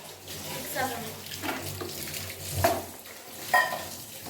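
Spoon stirring tapioca curry with grated coconut in a pot, giving soft scraping and wet mixing sounds in a few separate strokes, with a voice talking over them.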